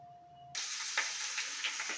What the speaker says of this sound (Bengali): তেল দেওয়ার পরে ক্যাপসিকাম পেঁয়াজ কুলি আর পেঁয়াজের টুকরোগুলো কড়াইতে ছেড়ে দিয়েছি। এগুলো ফ্রাই হবে।